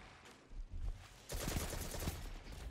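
Video game SMG gunfire in bursts, a short volley early then a sustained loud rattle of rapid shots through the second half.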